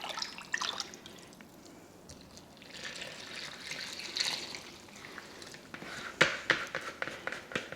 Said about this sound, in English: In goes your water, 5 cups of water and 1/2 cup of bacon fat.